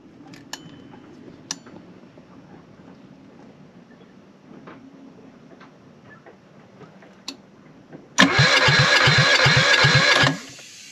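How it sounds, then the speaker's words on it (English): A generator's electric starter briefly cranks, then the engine catches and runs with a loud, rhythmic chugging for about two seconds before stopping, following several seconds of faint ticking and clicks. "the starter works, cranks over, sounds good with compression"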